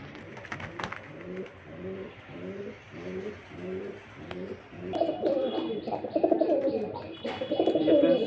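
Pigeons offered for sale at a pigeon market in Beldanga coo in steady, rhythmic repeated phrases, close and clear, growing louder and busier toward the end as more birds join.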